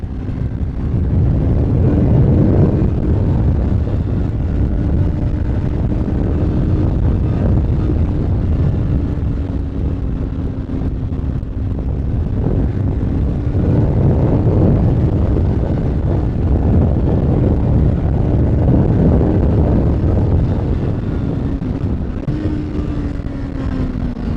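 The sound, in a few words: motorcycle engine revving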